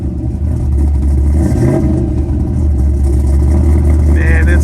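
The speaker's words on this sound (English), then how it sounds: "Now we get to hear this Miata roar with its LS powered V8." A Mazda Miata fitted with an LS V8 engine rumbles deeply and loudly up close at an outdoor car show, with a steady heavy burble throughout.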